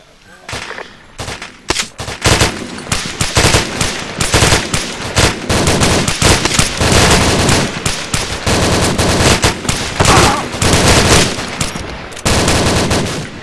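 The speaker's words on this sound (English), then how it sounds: "HC, we're firing loud weapons too?" Loud weapons fire in a military shooter game, made up of dense, sustained automatic bursts and overlapping shots that rattle almost continuously, close and heavy, with brief gaps.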